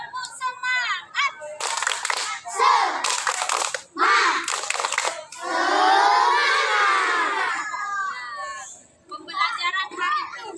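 Children in a grade 2 and 3 classroom perform a rhythmic spirit clap, with bursts of quick hand claps mixed with shouted chanting voices, loud and close, including a sustained group yell in the middle.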